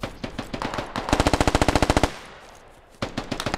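Video game gunfire in a squad shooter: a rapid, loud burst of about fifteen evenly spaced automatic shots, preceded and followed by shorter bursts, with a brief quiet gap between.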